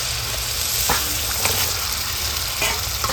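Chicken pieces sizzle steadily in hot spiced oil in a pan, a loud continuous crackle with a few brief louder spits and stirring scrapes, and no talking.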